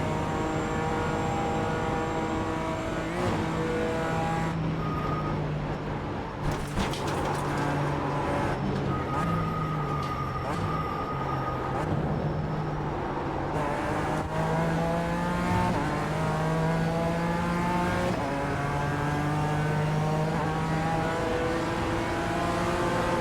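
Race car engines in a racing video game at Spa rise and fall through repeated upshifts and downshifts, a loud, whining revving close by with brief tire noise, as other cars pass, and occasional speech over the engines.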